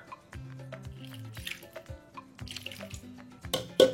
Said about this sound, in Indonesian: Aku kasih air.